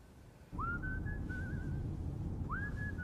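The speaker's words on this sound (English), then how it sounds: "You are whistling." A person whistles a clear rising note that holds and wavers slightly, then a second rising whistle starts after a pause, over a steady background hum.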